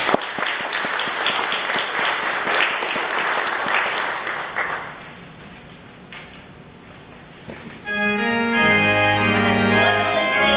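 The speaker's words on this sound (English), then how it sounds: "let's have a round of applause for that" A church congregation claps together in a dense, lively round of applause for about five seconds, then fades out; after a quiet pause, organ or keyboard music starts.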